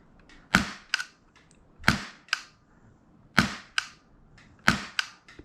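Polarstar Kythera custom airsoft gun trigger firing in pairs of sharp, dry clicks, four quick double shots spaced about a second apart, close and fairly quiet with no talking.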